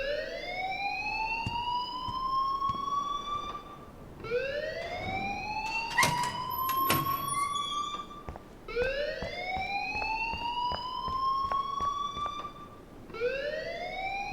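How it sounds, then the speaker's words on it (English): School alarm in Life is Strange, a wailing rising tone that repeats in long sweeps of about four seconds each, loud and continuous, with brief sharp clicks between sweeps. "please turn off that alarm since that's your job"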